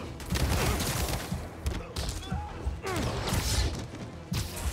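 Enemy gunfire in Spider-Man Remastered on PS5 rattles in dense, continuous bursts mixed with heavy crashes and thuds, loud and busy throughout.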